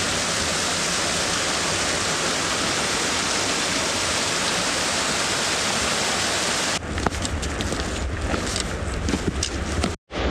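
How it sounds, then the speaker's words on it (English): A river waterfall on a wilderness trail roars continuously and loudly as close, dense rushing water, with the sound shifting slightly partway through as the listening position changes. "Here's the river, waterfall."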